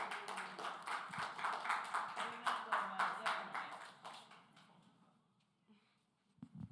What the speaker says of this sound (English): Clap it up for Patrice